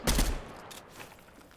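Gunfire from an online shooter game: a short, loud burst of rapid shots that fades into a reverberant tail.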